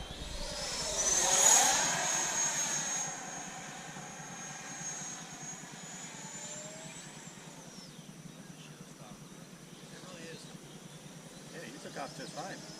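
Freewing F-22 Raptor 90mm electric ducted-fan RC jet on its maiden flight with gear up, a loud whine swelling as it passes close early on, then fading to a distant steady hum as it circles away.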